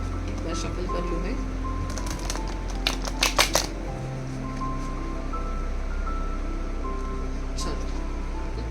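Tarot cards being shuffled by hand, a soft papery riffle and a cluster of quick crisp snaps midway, close by, over a steady low background hum.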